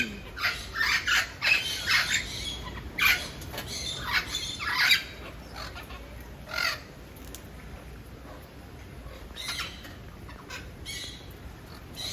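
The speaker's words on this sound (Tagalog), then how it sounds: "Ay, ang daming ibon." Many birds squawk and caw in overlapping bursts at Playa Dorada beach, Punta Perula, Jalisco, Mexico, busy at first and then thinning out to scattered distant calls.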